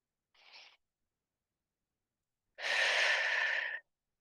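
Breathing during an athletic yoga sequence, heard as a short soft inhale and then a longer, louder breathy exhale lasting about a second, close to the microphone with no talking.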